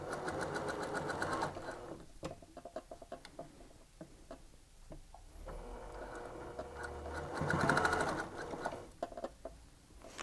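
Sewing machine stitching Shannon Cuddle fabric for a dog bed, running in bursts with rapid mechanical clatter and brief pauses, close and moderately quiet.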